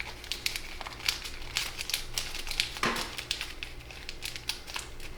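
Paper being worked into an origami inside reverse fold for a Satoshi Kamiya fiddler crab model, with soft crinkling and sharp creasing crackles running throughout, close and fairly quiet against a low steady hum.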